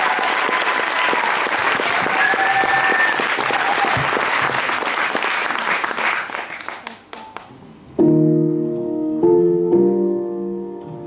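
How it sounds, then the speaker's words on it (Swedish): Loud applause from a large studio audience at Radiohuset, Stockholm, fills the first several seconds, thinning into scattered claps before sustained music starts up. "en stor varm applåd igen."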